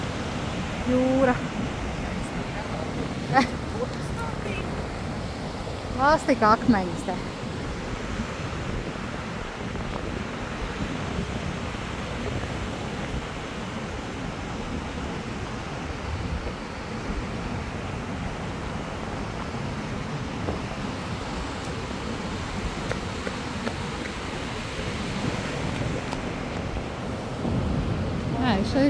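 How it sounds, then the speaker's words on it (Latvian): Sea waves wash against a rocky shore in Crete, a steady broad rush of surf mixed with wind buffeting the microphone, with a few brief voices and small knocks early on. "Jūra."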